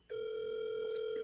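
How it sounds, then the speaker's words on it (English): Phone ringback tone on an outgoing call, a single steady electronic tone that starts abruptly and holds, clear and close, with no talking over it. "it took a minute to ring. But it's ringing though."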